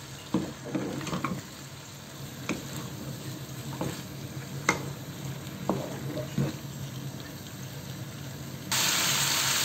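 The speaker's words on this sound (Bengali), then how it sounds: "সাথে একটা আলু দিয়ে এটাকে একটু মশলার সাথে একটু ভালোভাবে ভেজে নেব।" Beans and potato fry with spices in a pan for a fish curry, a soft steady sizzle broken by intermittent clinks and stirring scrapes, with a brighter hiss surging in at the very end.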